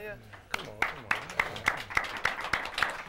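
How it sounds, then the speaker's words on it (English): Scattered hands clap in a club audience, a few sharp, evenly spaced claps rising out of quiet, with someone speaking over them. "Y'all want to give a round of applause?"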